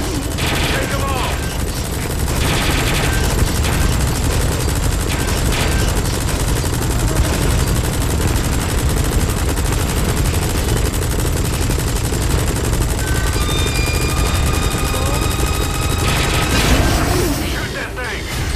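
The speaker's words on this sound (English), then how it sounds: "Use the chopper's minigun" Helicopter minigun in Metal Gear Solid V: The Phantom Pain, firing loud, dense sustained bursts with booms over a constant rotor drone, nearly continuous throughout under game sounds.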